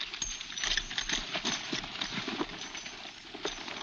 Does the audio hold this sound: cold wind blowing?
no